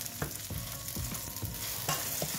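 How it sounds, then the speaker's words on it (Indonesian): Garlic and white scallion stems sauté in a hot pan, a constant sizzle broken by the scrape of a spatula stirring every half second or so, close and steady. "Lalu tumis bawang putih dan batang daun bawang yang bagian putihnya."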